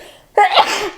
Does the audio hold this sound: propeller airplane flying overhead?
no